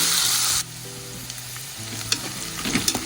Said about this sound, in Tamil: வெங்காயம் போட்டு நல்லா வதங்கணும்